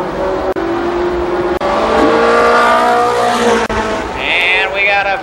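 Race cars at Columbus Motor Speedway in 1993, loud close engines revving and sweeping past with rising and falling pitch, a short high squeal near the end, under a track announcer's voice.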